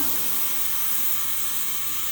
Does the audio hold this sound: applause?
no